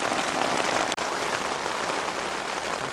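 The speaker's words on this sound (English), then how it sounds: "it's peeing down, so we'll have to hope this rain subsides" Heavy rain pours down outside a tent, a thick steady hiss of drops drumming on the fabric close by, continuous apart from one brief dropout, with no talk.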